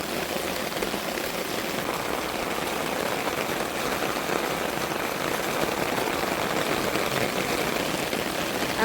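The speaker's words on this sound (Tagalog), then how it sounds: "maganda kapag mag-ulan" Rain falls steadily, a dense, even hiss of drops hitting a surface that stays at the same loudness throughout, with no voices.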